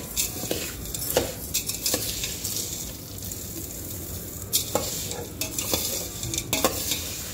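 A ladle stirs dry health mix ingredients in a metal pan, making repeated scraping and clinking strokes, close and moderately loud over a faint sizzling background.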